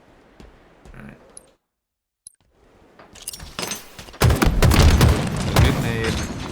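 A grenade detonates in a ranked Halo doubles match, bursting loud and near after a few quiet seconds of faint game sounds, followed by a sustained, rumbling roar.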